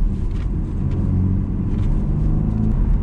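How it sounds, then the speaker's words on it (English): A BMW M135i fitted with a rearless exhaust idles or cruises with a deep, steady low rumble, close and continuous, without sharp revs. "definitely a slightly deeper note on the exhaust"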